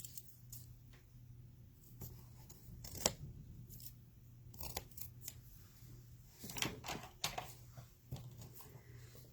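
Scissors snip through paper craft pieces for stamped card making, a quiet series of short, irregular cuts and paper rustles with a low steady hum underneath.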